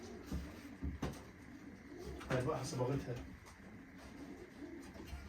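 Pigeons coo softly from a cage or loft, their low murmuring calls running under someone talking nearby.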